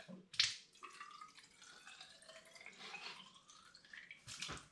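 Apple and berry hard cider is siphoned into a hydrometer jar as a faint, close trickle with a rising liquid tone, framed by soft clunks at the start and end.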